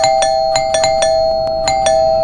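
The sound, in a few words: doorbell ringing repeatedly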